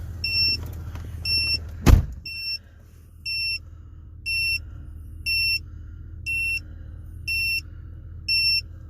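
A Tymate TPMS tire pressure alarm beeps in a steady, regular series of short electronic tones inside a car, after a brief thump, with a low vehicle hum underneath and no talk.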